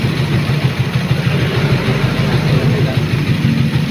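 A Suzuki Raider 150 Fi motorcycle engine with check-engine fault codes runs steadily nearby, a loud, even, low pulsing idle that continues throughout.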